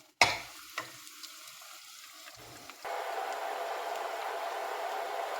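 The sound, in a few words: onions frying in oil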